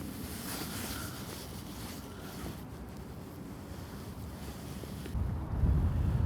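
Strong, cold wind blowing across a lake on a wild day while carp fishing, a constant rough roar buffeting the microphone, gusting louder near the end.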